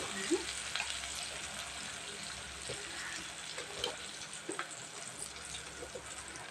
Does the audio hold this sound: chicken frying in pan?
yes